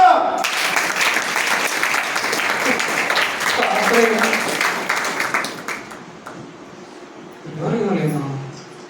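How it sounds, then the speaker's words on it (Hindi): Church congregation applauding during a pastor's sermon in Balangir, Odisha: dense clapping for about six seconds that thins and fades, followed by a brief spoken voice near the end. "ताली मारो"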